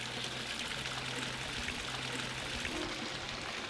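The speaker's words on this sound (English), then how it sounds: "The first well flows into the second and on to the third" Water pours steadily from one pool into the next at Three Pool Well, a drinking-water well holding fish in Eastern Tibet, making a continuous close rushing trickle with no voices.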